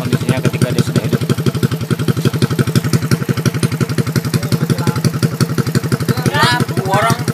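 An overhauled Suzuki Shogun R 110 motorcycle engine idles steadily and close by, a rapid, even chugging pulse that runs throughout. A brief voice is heard near the end.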